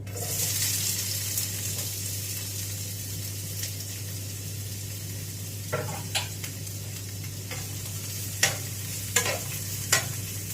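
Food pieces frying in lightly heated oil in a home pan, a steady sizzling hiss running throughout with a few sharper pops and crackles toward the end, no talking.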